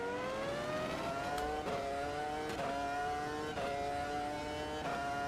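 Screaming BMW race car engine in Automobilista 2, a continuous high-pitched harmonic wail that climbs through each gear and drops sharply on repeated upshifts, loud and steady with no voices.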